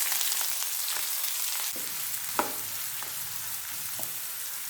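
Steady crackling sizzle of onions frying in hot oil for a capsicum fry, with a few soft clicks of a utensil stirring in the pan.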